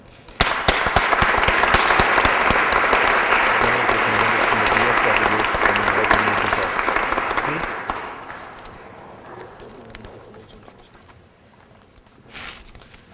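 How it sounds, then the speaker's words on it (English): An audience at an Eagle Scout Court of Honor applauds loudly and steadily for several seconds, then the clapping thins out and fades, with a brief burst near the end. "Please join me in giving all of our invited guests a very warm round of applause"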